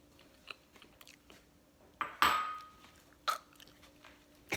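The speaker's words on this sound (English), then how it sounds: "I'm going to eat some of the parsley because we have too much" Someone chewing fresh parsley close up, a few soft crunchy bites with one louder crisp bite in the middle, separated by quiet pauses.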